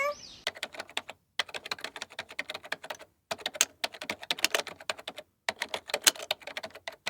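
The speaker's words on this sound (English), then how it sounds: "K for keyboard." Rapid typing on a computer keyboard, close and clear, sounding in dense bursts of clicking keystrokes separated by several short pauses, with no talking.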